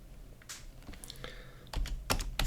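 Computer keyboard typing up close, uneven bursts of clicky keystrokes that quicken and grow louder toward the end, no voice over them.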